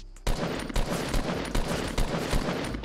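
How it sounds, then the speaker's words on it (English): Rapid automatic gunfire in Fortnite Battle Royale, loud, close bursts fired in a steady repeating rhythm throughout with no talking. "we got someone shooting over here"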